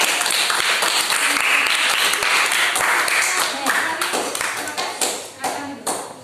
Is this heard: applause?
yes